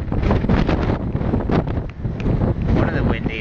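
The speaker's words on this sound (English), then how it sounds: "One of the windiest days I've seen for, I don't know, months." Strong, gusty wind buffets the microphone at the red and white Low Head lighthouse near Georgetown, a loud, continuous broadband roar that rises and falls slightly throughout.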